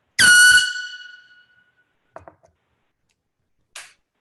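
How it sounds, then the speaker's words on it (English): A small air horn gives a single loud, shrill blast that bursts out and quickly decays, followed by a few faint clicks and a brief hiss. "That is the smallest air horn. It's loud."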